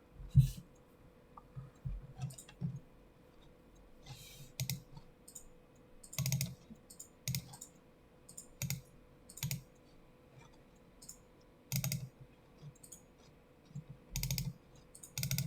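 Computer keyboard typing at a desk, heard as irregular bursts of soft, close key clicks with short pauses between runs, fairly quiet and without any talking.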